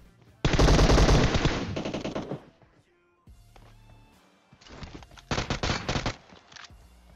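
Automatic gunfire in PUBG Mobile: a loud, sustained burst of rapid shots, a pause, then a quieter stretch followed by another loud series of shots.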